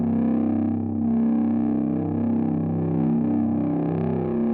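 A sustained, buzzing low bass C note with heavy stomp-box distortion, loud and steady, holding for several seconds without fading.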